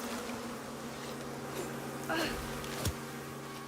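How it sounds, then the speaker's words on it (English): Bees buzzing and swarming in the survival video game Icarus, a steady insect drone with a sharper buzz sweeping past near the end, under continuous game ambience. "The bees will never quit. I can outrun the wolf, but bees will never quit."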